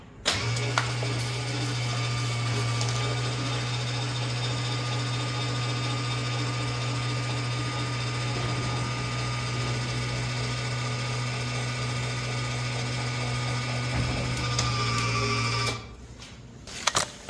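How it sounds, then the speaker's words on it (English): Landing gear on a Cozy MKIV homebuilt airplane extending, a steady electric motor whine with a constant mechanical hum for about fifteen seconds, then stopping with a clunk and brief clicks. "So let me bring the gear back down."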